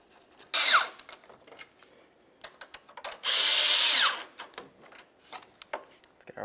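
A power drill drives in mounting bolts while a windshield washer reservoir is replaced on a 2007-2012 Nissan Sentra: a short whirring burst, then a longer steady one, with light clicks and knocks of handling in between.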